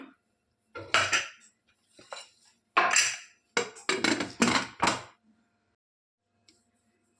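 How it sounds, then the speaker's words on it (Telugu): Several sharp metallic clanks and clatters of a pressure cooker lid being handled and set onto the cooker, separated by short pauses. "ఇప్పుడు లిడ్ పెట్టేసుకోవాలి"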